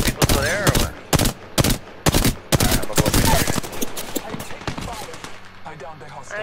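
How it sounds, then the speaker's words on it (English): Rapid bursts of automatic gunfire from Apex Legends crack out in quick clusters, loud and close, with faint voices underneath between volleys. "I'm taking fire."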